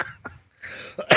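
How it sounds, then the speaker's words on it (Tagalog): A person lets out a few short, close coughs, with a louder burst at the end, set against quiet background noise and no speech. "Inuubo na ako"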